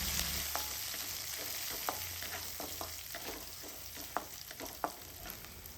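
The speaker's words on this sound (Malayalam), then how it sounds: "ഇതിലേക്ക് 2 തണ്ട് കറിവേപ്പില ചെറുതായി കട്ട് ചെയ്തിട്ട് ഇട്ട് കൊടുക്കുന്നുണ്ട്. വീണ്ടും നന്നായിട്ടൊന്ന് ഇളക്കി കൊടുക്കാം." Ginger, garlic and curry leaves frying in hot oil for beetroot pickle, a steady close sizzle with sharp scraping clicks of a spoon stirring through the pan, no talking.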